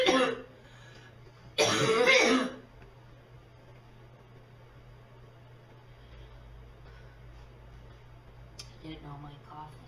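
A person sick with a bad barking cough lets out two harsh bursts, the second louder and longer, over a faint steady hum before quiet returns.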